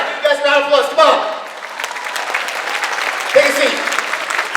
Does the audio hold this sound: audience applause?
yes